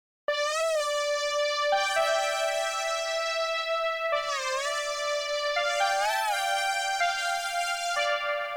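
A bright, high synthwave synth lead sings sustained notes with pitch bends and vibrato, washed in reverb, playing a slow melodic solo line with no other instruments.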